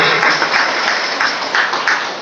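Steady, dense applause from an audience filling a college auditorium at a Teacher's Day ceremony, even and sustained throughout with no break.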